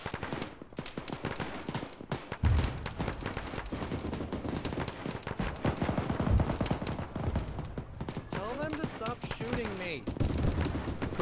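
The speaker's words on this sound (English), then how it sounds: "BMP east on the road, he's shooting at us" Armored BMP vehicle firing on players along a road in a military video game, with dense rapid bursts of automatic gunfire rattling continuously throughout, some sharp close heavy reports among them, and voices talking over the shooting.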